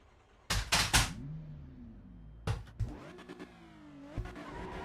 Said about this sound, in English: Sounds taken directly from Assetto Corsa. Supercharger sound and everything.